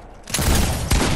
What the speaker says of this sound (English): Dude, my shotgun.